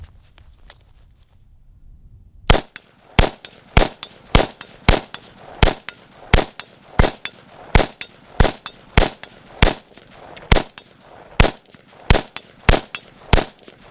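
Rifle firing Walmart green box ammunition from a blue C Products magazine: about eighteen loud, sharp shots at a steady measured pace, each with a short ringing tail, after a quiet lead-in, no talk.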